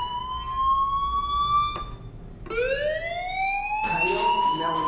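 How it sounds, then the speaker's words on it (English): A fire alarm in the video game Life Is Strange sounds as a steady, loud electronic siren tone that cuts off briefly, then restarts rising and continues with harsher ringing, alone without talk. "Hey, do you hear that fire alarm?"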